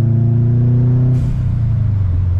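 Subaru car engine droning at steady revs while driving, then the note drops abruptly as the throttle shifts, loud and close throughout.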